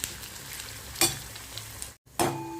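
Onion, green chili and curry leaves fry in hot oil after mustard seeds, with a steady close sizzle broken by stirring scrapes and a short silent gap before the frying resumes.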